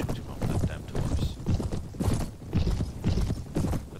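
Horse hooves clip-clop steadily in the Mount & Blade game, a busy, continuous trotting rhythm heard at moderate volume.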